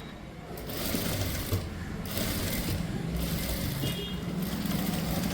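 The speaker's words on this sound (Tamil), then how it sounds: "இப்போ இதுக்கு மட்டும்தான் டபுள் ஸ்டிச்சு." Sewing machine running steadily while double stitching a blouse seam, a continuous close mechanical whir with brief pauses between stitching runs.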